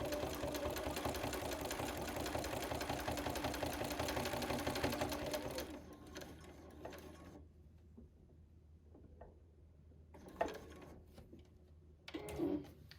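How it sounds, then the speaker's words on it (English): A sewing machine runs steadily while stitching quilt binding, a dense continuous whir for about six seconds that then stops, leaving quiet room noise with a few small handling knocks and rustles. "We're going to sew all the way down to 1/4 of an inch from the end of this"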